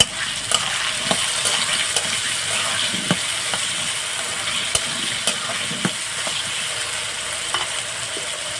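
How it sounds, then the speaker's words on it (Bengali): Raw potatoes fry in hot oil with salt and turmeric, giving a steady, close sizzle. A spoon scrapes through the pan at regular intervals, and no voices are heard. "হালকা একটু লবণ হলুদ দিয়ে আলুটা আমি ভেজে নেবো"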